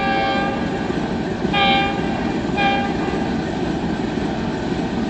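The 102 Down Subak Raftar passenger train arriving at a station on a foggy morning, a steady rumble of rolling coaches overlaid by two short, loud horn blasts in the middle, with no talk.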